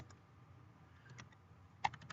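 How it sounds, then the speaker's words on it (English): A few slow, scattered keystrokes on a computer keyboard, faint and unhurried, ending with a slightly louder tap, with no talking. "slow typing here"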